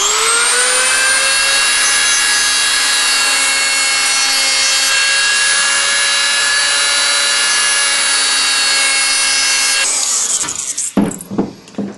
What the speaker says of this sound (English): we'll go ahead and use a Dremel with a little drum sander on it